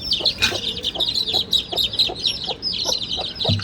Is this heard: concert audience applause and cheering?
no